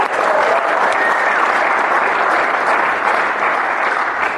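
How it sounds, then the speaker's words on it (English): A roomful of people at a dental student association meeting applaud the organizers with sustained, dense clapping that holds at a steady, fairly loud level throughout, with no speech on top. "you guys should all give him and his team a round of applause"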